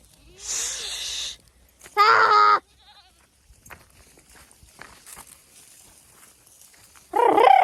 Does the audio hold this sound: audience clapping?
no